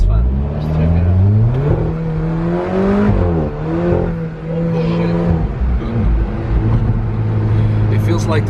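A 2018 Alfa Romeo 4C's engine revs loudly from inside the cabin while driving, its pitch climbing and falling through the gears in rising sweeps, with people talking over it.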